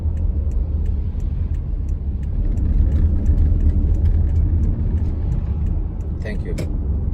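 Road traffic rolls past as heard from inside a moving car, a steady close engine and tyre rumble with occasional passing vehicles, while a voice talks over it.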